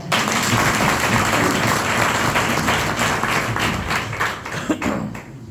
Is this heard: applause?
yes